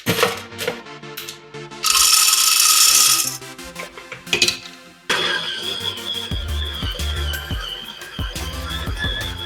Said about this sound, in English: Freshly ground on the Gemilai grinder.